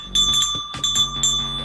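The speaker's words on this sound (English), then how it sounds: "let's just ring the bell" A small bell rings close by in three quick sets of bright, sustained metallic tones, each strike overlapping the fading ring of the one before, under faint background rumble.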